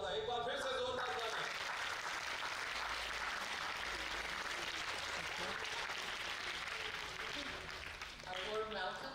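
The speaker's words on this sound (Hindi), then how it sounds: "एक बार फिर से जोरदार तालियां" Loud, sustained applause from a crowd at a 21st anniversary celebration, steady and dense for most of the clip before tapering near the end, with voices briefly audible at the start and finish.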